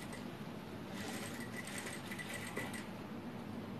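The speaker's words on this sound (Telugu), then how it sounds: "ఈ విధంగా స్లోగా కుట్టుకోండి ఫాస్ట్ ఏం అవసరం లేదు" A sewing machine runs slowly and steadily, stitching along a thin fabric cord for a handmade dori; a continuous close mechanical whir with no pauses.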